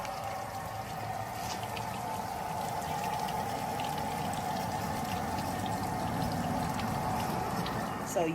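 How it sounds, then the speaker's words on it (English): Water from a hose sprays into a car, splashing continuously in a steady rushing hiss. "they would show like a water hose spraying into the car"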